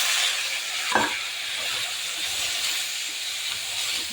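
Cut bitter gourd drops into a pan of cooked potatoes with a brief clatter, then sizzles and hisses steadily close by.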